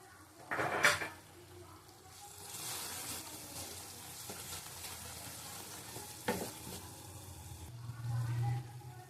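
Poppy seed paste frying in a pan for aloo dum, a broad steady sizzle with stirring scrapes and a few clatters of utensil against the pan, close and moderately loud, no talk.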